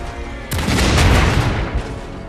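Artillery fire in the Iron Harvest video game booms in with a sudden heavy blast, then a long rumbling roar of shells and debris that slowly fades.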